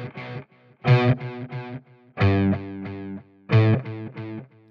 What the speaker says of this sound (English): So let's just give it a little delay.